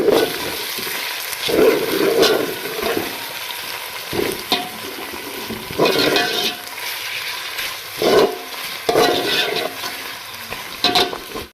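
Garlic, ginger and green chili paste fries with chicken in a pan. A close sizzle comes in repeated swells, several seconds each, broken by scraping stir strokes, with no talking.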